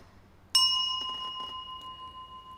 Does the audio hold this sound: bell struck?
yes